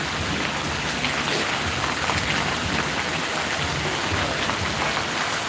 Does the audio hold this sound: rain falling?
yes